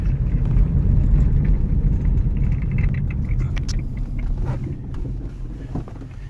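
A 2005 Dodge Magnum R/T with its Hemi V8 accelerates hard from inside the cabin. The engine gives a loud, heavy low rumble that stays strong and then eases slightly toward the end.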